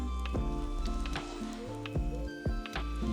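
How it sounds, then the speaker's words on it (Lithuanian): Chicken frying in a pan at an outdoor forest build site, a soft steady sizzle with scattered pops and crackles, fairly quiet and close, with no talk over it. "Kepa, vištą kepa."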